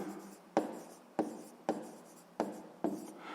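Pen writing an answer to a sixth-grade math problem on paper, five distinct stroke bursts in a regular rhythm, close and quiet with no voices.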